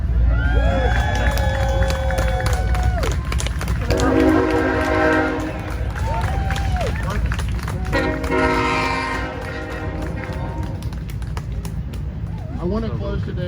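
Several vehicle horns honk and blare in bursts, loud and sustained, over a busy outdoor crowd with people talking throughout.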